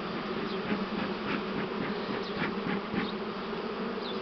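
Honeybees buzz steadily around an open hive while a Buckfast virgin queen is introduced into a split, a dense, continuous drone with individual bees flitting close by now and then.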